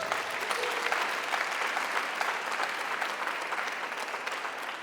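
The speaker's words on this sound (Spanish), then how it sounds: "Denle un aplauso al Espíritu Santo por eso" A church congregation applauds in a steady, dense burst of clapping that carries on evenly at moderate volume, with no voice over it.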